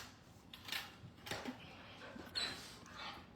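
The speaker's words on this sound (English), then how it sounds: "No barking in the condo." A puppy in a condo after a long walk gives short whimpers and soft yips, several faint broken sounds spread across the moment over quiet room noise.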